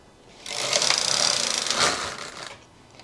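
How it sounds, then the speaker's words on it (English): A knitting machine carriage is run across the needle bed while a scarf is being knitted, giving a close, steady mechanical whirring and clacking for a couple of seconds. "Alright, and we'll knit those."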